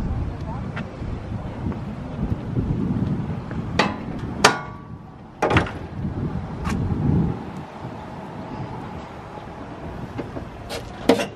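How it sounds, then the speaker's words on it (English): The engine hood of a school bus being closed outdoors in wind, heavy metallic clunks and a couple of sharp bangs against background wind rumble, with someone speaking around them. "So I'm going to go ahead and close the hood."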